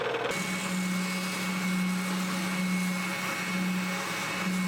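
A spindle sander drones with a steady motor hum as it shapes scroll-saw-cut wooden pieces for a foot stool, a constant close whine after a brief start.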